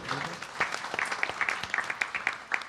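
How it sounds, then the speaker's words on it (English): A congregation at a Sunday satsang in a Hindu mandir gives a round of applause for first-time visitors, brisk scattered claps filling the room at moderate volume with faint talk underneath. "Let's give those people a wonderful round of applause"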